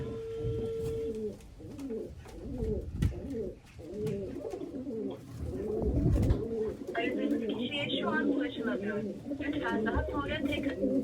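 Caught stray pigeon held in the hand, giving repeated soft throaty coos close by, with someone talking over and between them.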